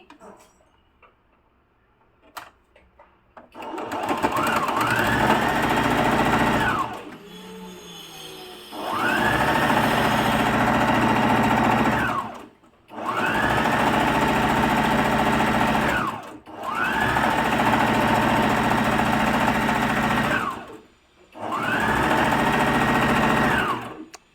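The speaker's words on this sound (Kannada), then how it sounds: "ಎರಡು ಸೈಡನ್ನು ನಾನು ಸ್ಟಿಚ್ ಮಾಡ್ಕೋತಾ ಇದ್ದೀನಿ" A sewing machine stitches the sides of an old kurti, running in four or five steady, close whirring bursts of several seconds each, separated by short pauses.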